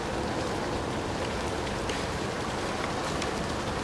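Steady rain falls outdoors, heard from under a tree as a dense, even hiss of drops on leaves and ground, close and continuous with no voices.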